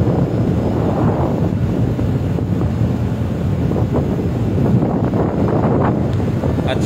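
Wind rushing across the deck of a ship sailing at sea from Calapan, loud continuous gusty buffeting against the microphone with no voices.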